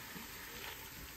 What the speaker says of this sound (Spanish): sofriendo el pollo